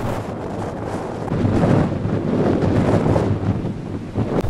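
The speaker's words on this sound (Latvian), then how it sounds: "Līdz Liepāju nonākusi pirmā 2012. gada vētra." Strong, gusting storm wind in Liepāja, Latvia, roars across the microphone in a loud, steady rush with deep buffeting rumbles, and no voices.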